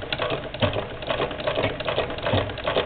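An 1891 White VS IIb treadle sewing machine stitches through two layers of heavy knit fabric, giving a steady, close mechanical clatter with a rapid rhythmic ticking throughout.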